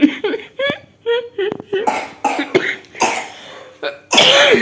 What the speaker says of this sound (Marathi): सगळ्यांनाच खोकला लागलाय